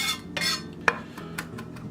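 A knife chops fresh rosemary on a cutting board for a maple coffee mushroom sauce, giving several sharp, close taps spaced irregularly over a soft kitchen background, with one louder knock in the middle.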